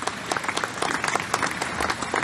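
An audience applauding during a podcast recording, dense continuous clapping with some crowd noise, fairly loud and sustained throughout.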